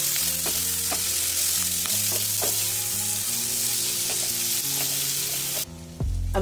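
Potato and onion fry together in a hot pan for fish jhal, giving a loud, continuous close sizzle with scattered stirring clicks and no talking. It cuts off sharply near the end.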